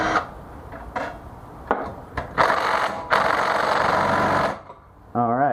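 A Harbor Freight impact wrench hammers on the head bolts of a Predator 212 engine in several short rattling bursts, then one longer sustained burst, close and loud.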